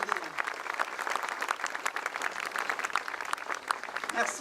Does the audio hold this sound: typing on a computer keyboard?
no